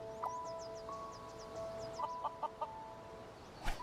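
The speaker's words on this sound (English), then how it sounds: "Chicken. Chicken got out." A chicken in the video game Starsand, several short clucks over a low steady background with quick chirping notes overhead and a sharper sound near the end.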